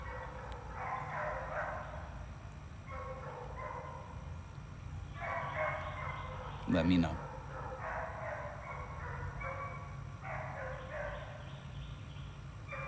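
Dogs yip, whimper and bark in a rising, song-like series of bursts through a steady room hum, with a person speaking over them briefly.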